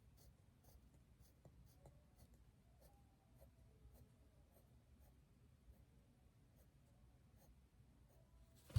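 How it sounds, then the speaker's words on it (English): A pencil draws a highlight on an eye in a beginner's sketch, making steady, faint scratchy strokes with short repeated taps and scrapes on paper throughout, ending in a louder bump. "we'll be drawing a highlight to the eye"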